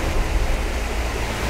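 A clear river runs between rocks in Bukit Barisan Selatan National Park, where visitors go tubing, giving a steady, dense rushing wash with no voices.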